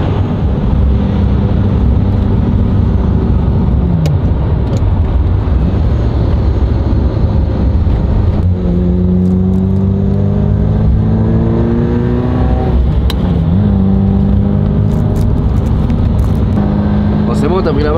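A vintage barn-find Ferrari drives along, its engine droning loudly and continuously, with the pitch dropping and climbing again through gear changes.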